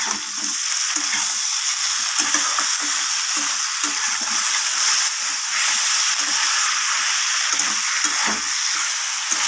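Hilsa fish curry with potato and eggplant sautés in a hot pan, a loud dense sizzle and hiss that runs unbroken, with frequent scraping stirs and no talking.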